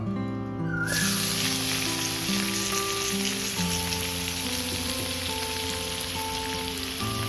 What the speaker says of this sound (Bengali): ফোড়নগুলো সব ভাজা হয়ে গেছে তেলের মধ্যে দেব অল্প করে চিনি কেটে রাখা পেঁয়াজ টমেটো দিয়ে দেবো